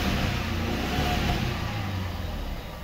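Jaguar XF diesel car engine, a scrapped vehicle in good running condition, revved with the accelerator: a loud, close, steady engine roar that eases slightly toward the end, with no talk.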